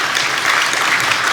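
A church congregation claps in blessing during a special early-morning prayer service, a brief, loud, dense burst of applause that fills the whole moment without pause.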